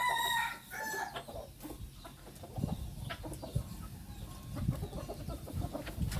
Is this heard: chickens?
yes